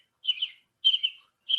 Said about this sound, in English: And American robin.